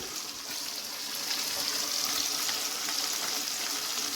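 Steady sizzling and bubbling rise from lentil dumpling curry frying on a gas stove as water is poured into the pan, a soft continuous hiss growing slightly louder partway through.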